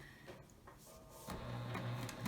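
A sewing machine back stitching through a fabric coaster, a short mechanical whir that starts quietly and becomes a steady, louder humming run of stitches, close by.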